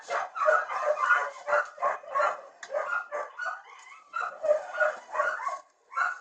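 Starving, malnourished dogs inside a house whimper, whine and yip almost without pause, high plaintive cries rising and falling close by with no talk.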